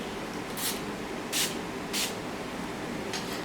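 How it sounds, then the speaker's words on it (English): Bounce Curl alcohol-free hairspray sprayed in four short, hissing bursts at uneven intervals, close by over a steady background hiss. "I didn't spray as much as her because she has more hair than me."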